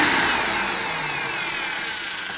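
A big vacuum cleaner's motor revs up into a loud, steady broadband whine that rises slightly and then holds. No one talks over it.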